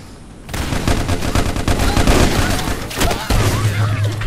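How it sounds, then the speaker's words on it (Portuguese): Sniper rifle gunshots in the video game Micro Volts ring out as a sharp opening shot followed by a loud, dense burst of rapid game gunfire and explosions, continuous and close. "Eu peguei uma sniper pra matar o cara que tava na minha frente."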